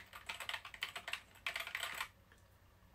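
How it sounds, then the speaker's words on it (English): Fingers type on an old, dirty Apple mechanical keyboard, a quick run of crisp, clicky keystrokes in uneven bursts, close but fairly quiet, stopping near the end. "But this is a mechanical keyboard,"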